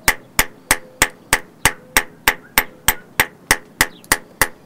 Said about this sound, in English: it just takes moderate blows with a small hammer